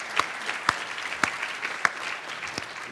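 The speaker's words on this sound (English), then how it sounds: "Should we applaud as we go?" Light applause from a small audience at a talk on getting into the video games industry, a soft patter of clapping punctuated by a few sharper, distinct claps.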